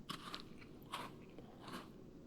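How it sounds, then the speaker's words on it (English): Crunchy biting into food in the video game Final Fantasy XIV Dawntrail, three separate crisp crunching bites spaced about a second apart, fairly close and alone with no talk. "Oh, sounds very crunchy."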